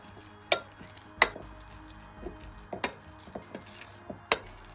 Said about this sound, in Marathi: तर याला आपण असं स्मॅश करून घेऊया